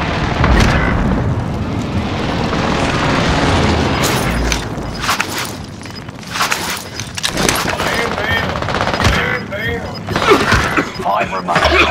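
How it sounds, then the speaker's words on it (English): Precision airstrike in the Call of Duty Warzone battle royale: dense, loud rumbling blasts and crackling gunfire fill the scene, with sharp booming impacts around the middle and near the end, under game voice callouts. "Enemy precision airstrike!"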